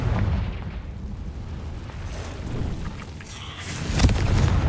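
A Confringo fire spell blast in Hogwarts Legacy inside a cave, a rumbling explosive roar that swells and peaks sharply near the end over a dense low boom, with no talk.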